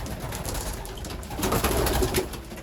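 Pigeons at a feeding spot give soft, continuous cooing under a steady bed of low rustle and background noise, fairly close and with no clear pauses, swelling slightly toward the middle.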